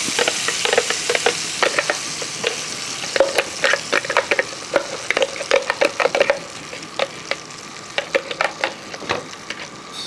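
A thick jackfruit paste sizzles in hot ghee while a spoon stirs it in repeated rhythmic scrapes and pops, close up and fairly loud.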